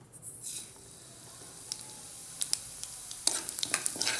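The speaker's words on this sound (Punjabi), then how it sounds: "ਸਭ ਤੋਂ ਪਹਿਲਾਂ ਆਲੂ ਭੁੰਨਣੇ ਆ" Potatoes roast in a pan in a village kitchen, giving a soft continuous sizzle with scattered sharp crackles and stirring scrapes that grow busier toward the end, with no talking.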